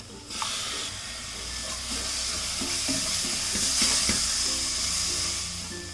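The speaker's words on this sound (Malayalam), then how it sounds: "ഇതിലേക്ക് ഞാൻ ചോപ്പ് ചെയ്ത് വെച്ചിരിക്കുന്ന ഒരു ടൊമാറ്റോ ഇട്ട് കൊടുക്കണം." Chopped tomato is stirred into masala frying in a pan, making a loud, steady sizzle and hiss close by, with light rhythmic stirring scrapes running beneath it and no talk.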